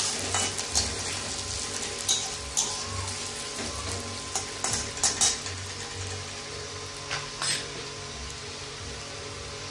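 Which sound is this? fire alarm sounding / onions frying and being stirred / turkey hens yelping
onions frying and being stirred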